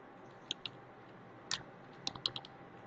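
Quiet computer keyboard typing while entering user details in management software: a few scattered, light key clicks over faint room hiss.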